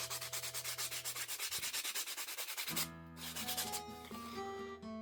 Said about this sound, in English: you don't have to go crazy on the sandpaper, because I just hit it with 80 and then wrap it with leather